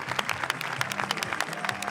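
Audience applauding at a Cannes film screening: dense, steady clapping from a packed hall, many hands at once, continuous and fairly close throughout.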